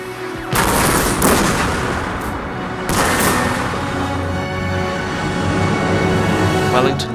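Cannon fire at a Battle of Waterloo reenactment: two heavy booms about two seconds apart with rumbling echoes, set against continuous battlefield noise, with a voice talking over it.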